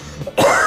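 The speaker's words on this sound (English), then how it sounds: "now you made me cough. Now he's coughing." A single short, harsh cough bursts out after a brief quiet moment, close and fairly loud.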